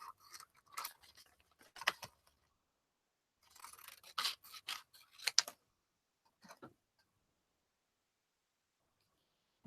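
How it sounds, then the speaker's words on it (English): Scissors trim sealed plastic just outside its melted seal lines, producing several quiet clusters of short crisp snips separated by pauses. "I'm going to trim it just outside the melted lines."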